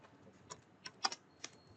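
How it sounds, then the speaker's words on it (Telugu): A handful of isolated keystrokes on a computer keyboard, spaced irregularly over a quiet background, close but soft. "నేను ఇక్కడ for suppose my name is Ramesh అని రాశాను అనుకోండి"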